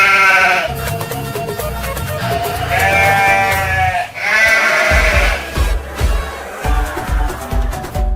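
A male goat bleats loudly and close by, giving several long wavering cries in a row with short pauses between them and a low rumble underneath.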